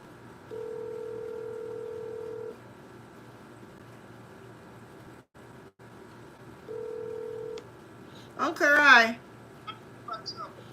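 A phone call rings out in a quiet room: two long electronic ringback tones, about two seconds each, several seconds apart, followed by a brief burst of a voice answering.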